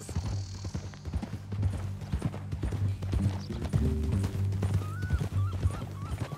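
Horse hooves clip-clop steadily in the Red Dead video game, a close, rhythmic trot with a faint whinny, over low ambient music and no talking.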